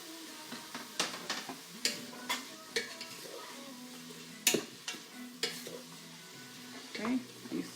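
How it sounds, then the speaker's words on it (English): Onion, scallion and garlic stir-fry in oil for shrimp soup: a soft sizzle beneath repeated clacking strokes of a utensil against the pan, fairly rhythmic, with a louder clatter midway. "you stir fry that for a little bit"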